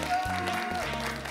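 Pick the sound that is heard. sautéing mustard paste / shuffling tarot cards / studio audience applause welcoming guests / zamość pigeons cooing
studio audience applause welcoming guests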